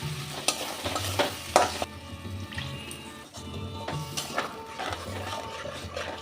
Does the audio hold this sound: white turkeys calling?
no